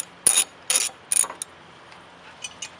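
A ratchet wrench removes bolts from a Teraflex Alpha HD hinged spare tire carrier on a Jeep, giving three quick close bursts of clicking followed by a couple of fainter clicks.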